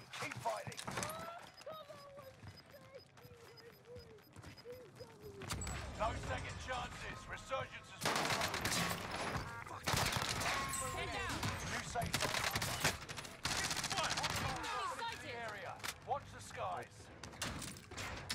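Kilo 141 rifle fire in Call of Duty, rapid automatic bursts growing denser in the second half, mixed with other game noise while a player talks excitedly throughout.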